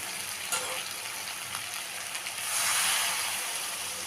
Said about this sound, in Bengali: এখন আমি দিয়ে দেব গরম জল